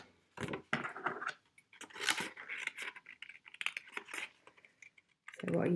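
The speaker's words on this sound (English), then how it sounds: "I'll just run my scissors around those really quick." Scissors cutting around die-cut paper shapes at a crafting desk, a close, quick series of irregular snips and paper rustles, with a short break and more handling noise at the end.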